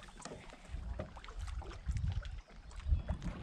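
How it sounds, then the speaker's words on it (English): Breezy wind buffets over choppy water at a lake while fishing from a boat. Low gusts of rumble come with irregular slaps and splashes of small waves against the hull, faint and close. "It's breezy and choppy now"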